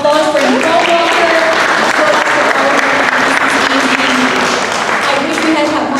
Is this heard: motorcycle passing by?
no